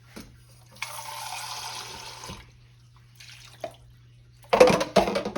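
Water runs from a tap in a couple of short bursts into buttermilk cornbread batter, followed by a louder splashing pour at the end, close by in a quiet kitchen.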